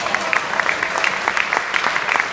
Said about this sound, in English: I will ask for a round of applause for her